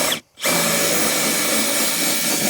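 A power drill bores a 7/8 inch hole through a plastic self-watering pot, its steady whine running loud and continuous after a brief pause at the start.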